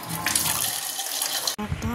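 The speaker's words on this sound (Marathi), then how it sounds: "तुरीची डाळ घेतली आणि थोडी मुगाची डाळ घेतली. सो मी त्यांना धुवून घेते." Toor and moong dal lentils are rinsed in running water in a home kitchen, a close, continuous splashing and pouring that breaks off briefly near the end before the water resumes.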